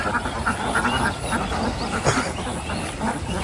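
Domestic ducks quack in a village setting while being fed small puti fish, repeated calls at moderate distance over a continuous background hum.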